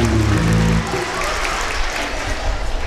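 Audience at a school network pilgrimage cultural afternoon breaks into applause, a dense wash of clapping that starts under a voice and carries on steadily, moderately loud, through the clip.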